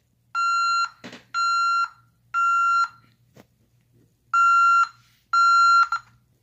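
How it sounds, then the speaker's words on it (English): A smoke detector in a fire alarm system under test gives five loud, evenly spaced electronic beeps, each lasting about half a second, with a couple of short clicks in between and no talking. "So when I activate the smoke, the alarms aren't gonna go off, but that'll beep telling me this is an alarm."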